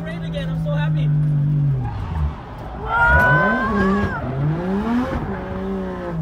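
A car engine revs and drives close by, the pitch sweeping up and down through several surges, with people's voices talking and cheering over it.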